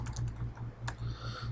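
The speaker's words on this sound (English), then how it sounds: "as soon as I start typing the word H" Typing on a computer keyboard during spreadsheet work, a quick run of close, light key clicks over a steady low hum, with no voices.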